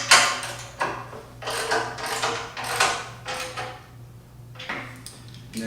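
A wrench tightens the motor mounting bolts on a Laguna LT16 HD bandsaw, giving short bursts of metallic ratcheting and clicking separated by brief pauses, close but moderately quiet over a low hum.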